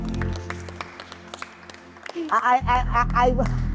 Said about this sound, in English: Hand clap, hand clap, hand clap